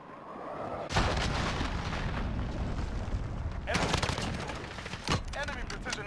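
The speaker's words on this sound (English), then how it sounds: "Enemy cruise missile incoming." Cruise missile strike explosions in a first-person shooter, heavy booming blasts and rumbling impacts rolling continuously over several seconds, with sharper bursts near the start and later, loud and dense under faint voice chatter.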